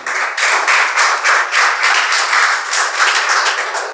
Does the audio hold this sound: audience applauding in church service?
yes